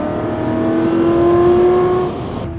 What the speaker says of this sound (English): We are here at Area 27 taking the Super-Vantage out for a shakedown